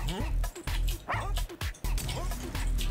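Cartoonish dogs in the game Russian Subway Dogs bark and yip repeatedly in quick bursts, loud and close, with short whimpers between them and no clear talk over them.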